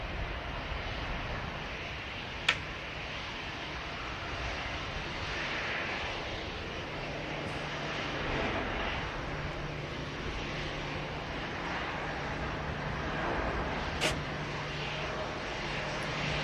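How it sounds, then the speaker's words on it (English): A Qatar Boeing Dreamliner rolls on the south runway for departure at Manchester Airport in strong winds. It is a steady, distant broadband roar blended with gusty wind noise, with no talking. "Qatar Dreamliner rolling on the south runway for departure."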